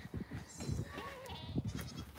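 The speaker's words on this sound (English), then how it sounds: "We got some goats in this area." Goats on a farm bleat repeatedly and close by, several wavering cries overlapping through a couple of seconds against a faint farmyard background, no talking.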